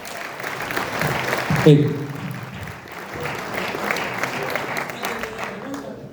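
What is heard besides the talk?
audience applause for José Antonio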